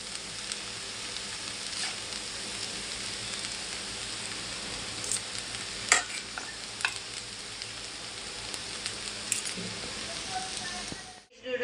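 Chinese noodles being tossed with sauces and chopped spring onions in a hot pan, giving a steady close sizzle and frying hiss with occasional scraping clicks of the stirring utensil, which stops abruptly at the end.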